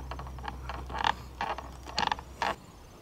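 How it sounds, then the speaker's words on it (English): A screwdriver backs out Phillips head bolts on an outdoor flood light fixture, producing close, quiet ratcheting clicks and squeaky metal grinding in short bursts, with no talking. "It has two Phillips head bolts here that you have to unscrew."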